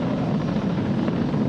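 Falcon 9 rocket engines on a crewed Dragon launch give a steady, dense roar with a deep rumble, continuous and loud throughout the short stretch.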